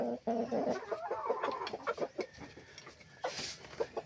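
Pet chickens cluck and squawk close by at feeding time, making busy overlapping calls with a sharper cry near the end.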